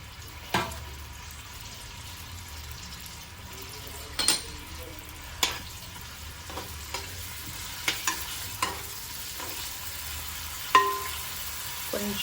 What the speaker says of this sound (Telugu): దీంట్లో మనం కడిగి పక్కన పెట్టుకున్న చిన్న రొయ్యల్ని వేసేసుకుందాం